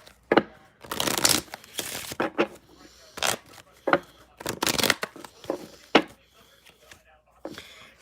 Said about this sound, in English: Let's pull a playing card.